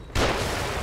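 A single gunshot in the horror game The Evil Within, an abrupt loud broadband blast that hits after a brief quiet moment and rings on as a dense roar through the rest of the short moment.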